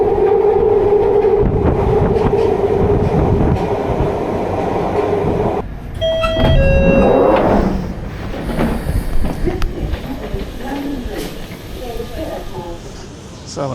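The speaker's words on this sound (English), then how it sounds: "another typically noisy, rattly and pretty filthy trip on the Northern Line" A London Underground Northern Line tube train rattles and roars through a tunnel in a loud, steady din, then slows with squealing brakes and clatter before quieter station noise. Voices are heard over the rumble.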